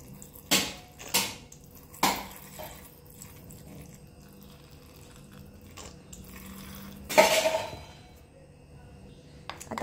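Puja ingredients, including a whole tablet, cow urine and rose water, mixed in a bowl with a spoon: a few soft wet scrapes and clinks spaced out over quiet room noise, with a brief louder swish near the end.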